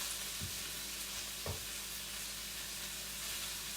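Shrimp frying in a pan, a steady broadband sizzle that holds evenly throughout with a couple of soft stirring knocks near the start.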